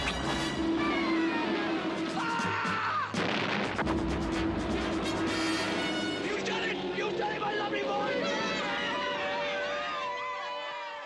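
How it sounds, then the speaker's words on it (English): A real artillery gun firing on a film set, heavy booms and blasts under a dense wash of crowd noise, voices and music throughout, loud and continuous. "We were actually firing a real gun"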